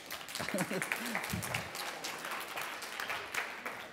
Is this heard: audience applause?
yes